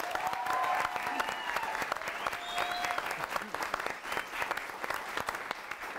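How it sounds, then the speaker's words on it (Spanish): Strong applause from a comedy show audience for a psychologist, dense clapping filling six seconds with some whoops and cheering voices mixed in. "Un fuerte aplauso, por favor, por el psicólogo Rafael Martínez."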